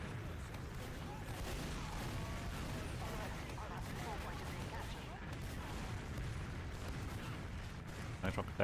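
A rocket blast amid team-based shooter combat rumbles under constant low booming and rattling gunfire. The clash is dense and continuous rather than a single clear bang, with speech likely mixed in.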